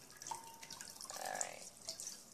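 Water dripping and splashing from freshly dyed yarn being wrung out by hand, a few short wet trickles and drips over roughly two seconds.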